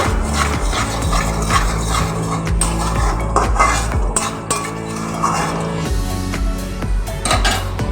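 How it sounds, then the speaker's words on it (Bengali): Chicken with spices being stir-fried in a pan, loud repeated scraping and clanking of a metal spatula against the pan with a faint sizzle underneath, steady and close. "খুব ভালো করে আমি এটাকে কষিয়ে নেব"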